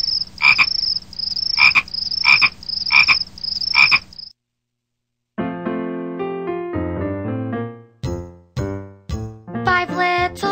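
Cartoon frogs from the children's song Five Little Speckled Frogs croak loudly five times in a steady rhythm, then stop; after a pause, a bright musical intro takes over.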